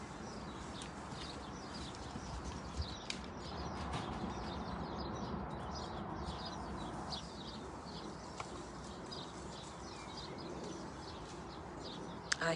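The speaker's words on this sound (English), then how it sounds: "Listening to the sounds of the birds." Birds chirp and call steadily outdoors over a constant broadband background hiss, the calls scattered and moderately faint throughout.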